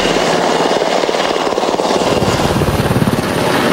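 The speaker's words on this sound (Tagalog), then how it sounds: "Mula sa himpapawid gamit ng mga Black Hawk helicopter" Black Hawk helicopters fly over during a joint Philippine and American military exercise, their rotors making a loud, steady, close thumping roar that fills the whole stretch.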